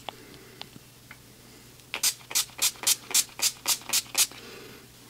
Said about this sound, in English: Oh, the spray is very aggressive.